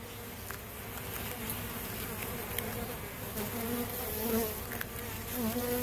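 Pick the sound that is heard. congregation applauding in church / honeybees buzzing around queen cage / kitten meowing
honeybees buzzing around queen cage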